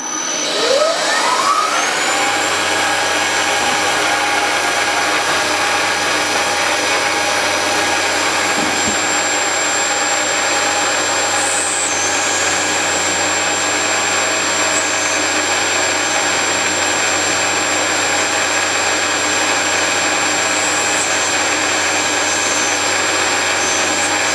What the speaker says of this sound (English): I turned the spindle switch on.